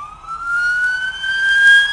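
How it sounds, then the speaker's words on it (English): An ambulance siren wails nearby in a rural setting, a loud, steady rising tone that holds strong throughout. "The middle of nowhere, and there's still an ambulance. Headed somewhere."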